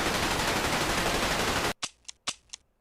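Gunfire rattles in a dense, loud continuous burst, then cuts off into a few sharp separate shots spaced out as the ammunition runs dry.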